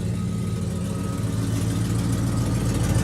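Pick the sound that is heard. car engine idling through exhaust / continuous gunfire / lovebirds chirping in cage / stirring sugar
car engine idling through exhaust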